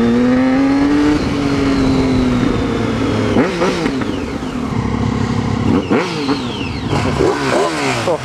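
Triumph Street Triple and Ducati 959 Panigale motorcycles riding through Bath on a cold Saturday morning, engines revving up and down in loud, close sweeps of rising and falling pitch over a constant rush of wind.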